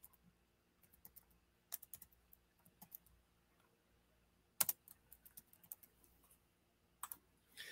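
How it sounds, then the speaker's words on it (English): Someone types on a computer keyboard with quiet, irregular bursts of key clicks, a few sharper taps standing out, in a quiet room with no talking. "you type in what you want your trip name to be"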